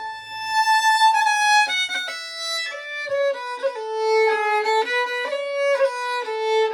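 Solo fiddle plays the tune Rose Acre with ornaments such as flicks and a waterfall, a bright, close melody of quick stepping notes with grace-note flourishes, no voices over it.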